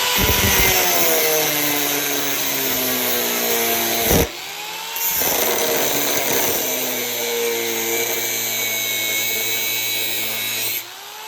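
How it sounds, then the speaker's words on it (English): An angle grinder cuts through a metal motorcycle frame part for an XR80/RM65 hybrid build. The whine is loud and close, with a harsh rasp, and cuts out briefly twice during a steady run. "I'm just going to take the grinder, like I did on the last one, just cut this out."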